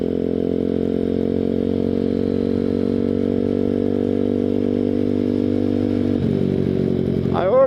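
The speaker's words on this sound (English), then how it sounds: "Today I'm out on the grom clone again." A Grom clone motorcycle idles and runs close by with a steady, loud buzzing drone, its pitch shifting near the end as the throttle changes.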